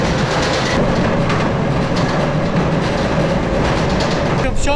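Freight train rolling along railway tracks in Russia, a steady loud rumble with rail noise filling the whole stretch, heard from close by on board.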